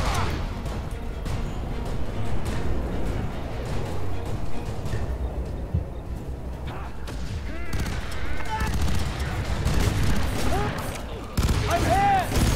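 Shotgun blasts and other gunfire boom through a firefight in the video game F.E.A.R., loud and irregular, with bursts of shots and some clattering over a steady rumble.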